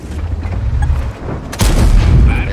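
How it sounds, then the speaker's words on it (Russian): A Kranvagn tank's cannon in a tank video game fires one loud, sharp boom about midway, followed by a heavy rumbling tail over lower engine and ambient noise. "Это был предупредительный выстрел."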